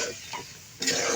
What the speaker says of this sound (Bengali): এই তো মাছগুলো আমি ভালো করে কষাচ্ছি।